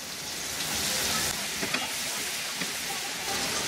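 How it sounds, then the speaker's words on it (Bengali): Garlic and red chilies frying in a pan, producing a dense, steady hiss of sizzling oil with a few faint stirring scrapes. "কয়েক সেকেন্ড ভাজলেই হয়ে যাবে।"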